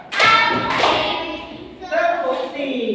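A classroom group of children claps together on a teacher's counted call, two sharp bursts of hand claps mixed with a voice speaking.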